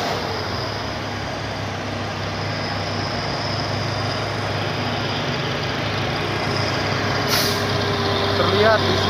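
A heavy trailer truck loaded with fertilizer labors up the steep Bukit Kodok incline, its deep engine drone steady and loud throughout, with a brief hiss like an air brake near the end and voices faintly underneath.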